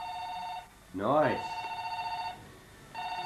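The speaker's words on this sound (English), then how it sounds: "that sounds quite a lot like my phone." A telephone rings with a repeating electronic bell, a steady pulsed tone that starts, pauses while a voice talks over it, then resumes, heard at a 1992 family Christmas gathering.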